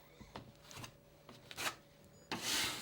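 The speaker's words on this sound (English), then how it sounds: "press it firmly into the joint and over the recessed screw heads, then skim off the excess" Soft scraping strokes of a drywall knife skimming joint compound over drywall joints and screw heads, several short passes close up and fairly quiet, ending in a longer rasp.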